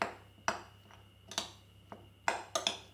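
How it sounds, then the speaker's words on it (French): Burger ingredients being mixed by hand in a bowl, with a few sharp clinks and knocks of a utensil against the bowl spaced irregularly, close and fairly quiet, with no talking. "Et maintenant, je mélange."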